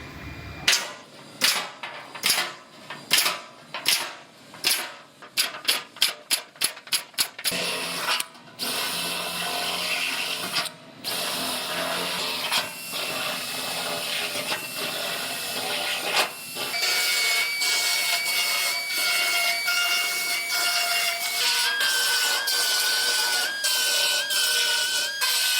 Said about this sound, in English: I'm going to go ahead and make all my holes for the welds.